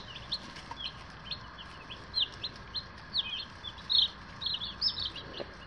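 A flock of young meat chickens, about three weeks old and still fluffy, cluck and peep repeatedly. The calls are soft to moderate, come in short irregular bursts and sound fairly close, with no talking.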